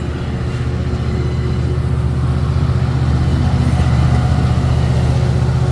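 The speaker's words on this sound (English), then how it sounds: "There she goes. Locomotive." Exo commuter rail locomotive 1329 heading west toward Dorval, working at high throttle as it passes: a loud, steady diesel roar with deep rumbling harmonics, close by and continuous throughout, with no talking.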